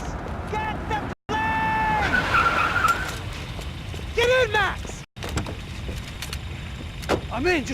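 Car engine revving and tires skidding in the Max Payne 3 video game, with loud broadband road noise, a couple of brief cuts, and overlapping voices and game effects.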